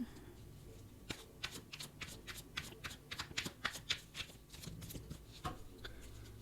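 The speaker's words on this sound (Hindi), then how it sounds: "गाइस हम अलग अलग डेक में से कार्ड लेंगे आज।" Tarot cards from several different decks are shuffled close up, giving a run of quick, crisp riffling flutters and soft taps in a fairly steady rhythm, with a faint voice in the background.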